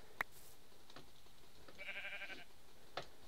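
A Minecraft sheep gives a brief bleat amid faint game sounds and clicks, quiet and somewhat buried in steady background hiss.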